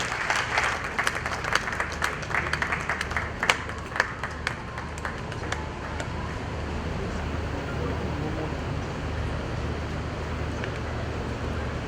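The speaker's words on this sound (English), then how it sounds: "A round of applause for her, ladies and gentlemen." An audience at the Millennium Excellence Awards ceremony at Manhyia applauds, a dense wash of clapping that is strongest at first and thins to a steady murmur of applause and crowd noise.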